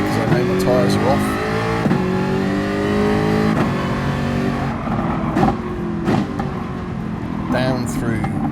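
A race car engine in Gran Turismo Sport howls at full throttle down a long straight, a loud sustained whine with rising gear sweeps and shifts, while someone talks over it.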